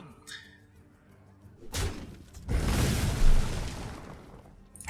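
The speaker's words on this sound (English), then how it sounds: "We don't even want this explosion right now." A Hearthstone explosion effect booms in with a sudden thud, then a loud rumbling burst that swells and slowly fades over a few seconds.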